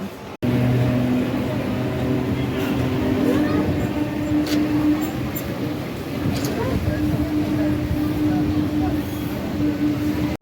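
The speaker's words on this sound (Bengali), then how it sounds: "ট্রেন চলে এসছে আমার এই সাইড" A Kolkata metro train pulls into a station on the Esplanade–Howrah line under the Ganges, giving a loud, steady close-up rumble with a sustained motor whine that continues through the whole stretch.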